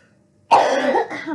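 A single loud, harsh cough bursts out after a moment of near silence, sustained and raspy with a throaty rumble.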